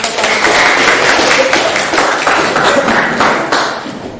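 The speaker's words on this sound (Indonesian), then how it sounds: "sekali lagi kita beri tepuk tangan" Clapping from a classroom audience after a group presentation, a continuous, fairly loud wash of hands that rises and falls slightly before tapering off.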